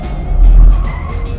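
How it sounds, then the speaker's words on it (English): Car sliding sideways on a performance driving school track, tires scrubbing and squealing in a loud, close smear that swells and fades within a second over engine roar. "pick at the throttle, and let the car slide around"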